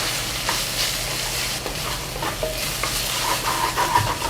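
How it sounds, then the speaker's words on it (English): Gochugaru chili flakes fry in hot oil in a pan for Korean-style mapo tofu, giving a continuous close sizzle with stirring scrapes throughout and no talking. "I really want to cook the gochugaru."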